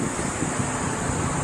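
Wind blows outdoors around a simple house extension under renovation, a steady rushing breeze with gusty buffeting against the microphone, no talking.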